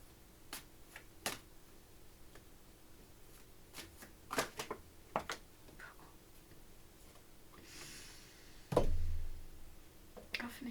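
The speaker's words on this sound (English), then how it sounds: "I'll finish shuffling them later" Tarot cards are shuffled by hand at close range, soft scattered riffles and taps, quiet and intermittent, with a brief louder rustle near the end.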